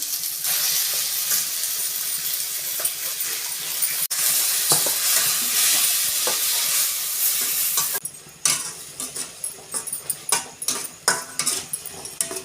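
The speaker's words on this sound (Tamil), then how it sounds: "வெங்காயம் தக்காளி இஞ்சி பூண்டு பேஸ்ட் எல்லாமே நல்லா வதக்கி விட்டாச்சு" Onion, tomato and ginger-garlic paste sautéing in a pan, a dense continuous sizzle for several seconds, then rapid clattering stirring strokes of a spatula against the metal, close and loud with no talking.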